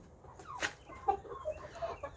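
Chickens clucking softly as they settle onto the roost for the night, with several low, scattered clucks and murmurs close by against a quiet coop background.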